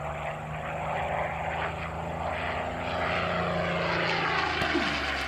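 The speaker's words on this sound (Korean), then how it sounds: "두 번째 소리는 P-40 커티스 전투기인데요" A P-40 Curtiss fighter plane's propeller engine roars steadily with a rough, pulsing growl, loud and close throughout, no one speaking.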